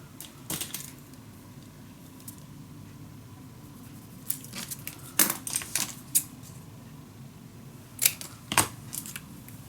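Scissors snip paper for a boxed junk journal mini album in a handful of short, sharp cuts and crinkles, separated by quiet pauses.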